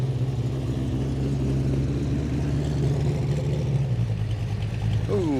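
A Chevrolet V8 classic car at an outdoor car club show, its engine rumbling at a steady low idle nearby and then shifting pitch near the end.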